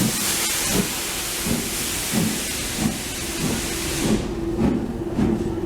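A steam locomotive rumbles past with a steady hiss and rhythmic clacking beats, loud and close, the high hiss dropping away near the end.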